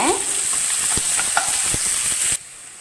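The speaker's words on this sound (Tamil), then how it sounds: "வெங்காயம் ஒரு நூறு கிராம் சின்ன வெங்காயம் நல்லா வதக்குங்க" A hundred grams of small onions sautéed in a pan: a loud, close, continuous sizzle with several sharp spoon scrapes and taps, ending in a sudden drop to a quieter hiss.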